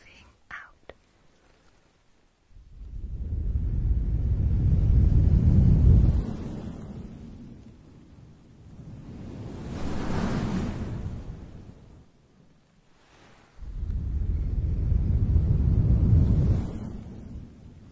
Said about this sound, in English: we can hear the tide coming in and out, the waves, sorry, coming in and out